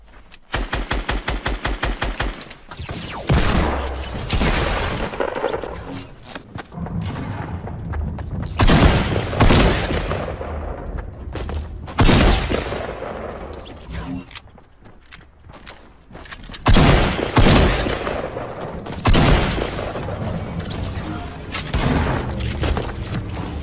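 Rapid gunfire and bursts of shots in Fortnite, loud and close, with repeated volleys across the scene and some game effects between them.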